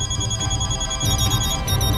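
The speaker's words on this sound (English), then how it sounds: "Why, even my phone is ringing." A phone ringing in the video game Hyperdimension Neptunia Re;Birth2, a repeating electronic ringtone with bright tonal pulses over a low musical background, steady and loud.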